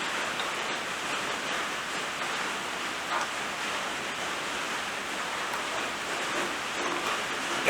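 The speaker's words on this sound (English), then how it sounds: "Can you hear the rain on the roof?" Rain drumming on a workshop roof, heard from inside as an even, unbroken hiss at moderate level that holds steady from start to finish.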